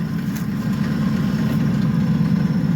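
A Mercury Marauder V8 idles with new exhaust and the muffler removed, a loud, deep, throbbing rumble that holds steady and close with no voices.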